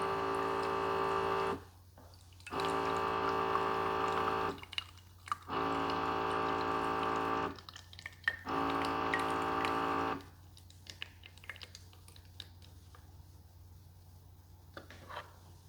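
A Baby Brezza Formula Pro dispenses plain water into a bottle in four steady bursts of a few seconds each, separated by short pauses, followed by faint drips and small clicks.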